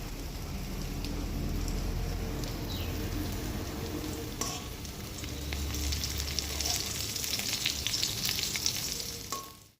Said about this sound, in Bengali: এখানে কাঁকরোল ভাজা হচ্ছে